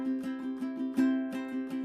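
Ukulele strummed fast and evenly with no accented strokes, a steady run of bright chordal strums with regular rhythm, close and moderately loud, played alone.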